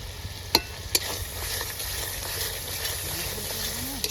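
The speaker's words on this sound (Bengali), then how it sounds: "ওদিকে মশলা কষাচ্ছে" Spices being stirred and sautéed in a hot pan for lemon chicken, a steady close sizzle and scraping with a couple of sharp clinks of a spoon against the pan.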